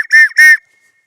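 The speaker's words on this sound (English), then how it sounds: "So 3 toots on a good whistle means help me." Two short, loud, shrill blasts from an emergency signal whistle sound in quick succession, close up, then stop abruptly into silence.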